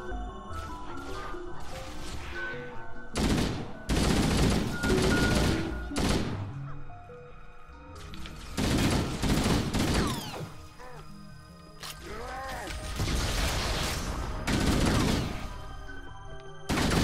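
Video game gunfire in a multiplayer shooter, with repeated bursts of loud shots and crashes in several clusters, rapid and close, while players talk over the action.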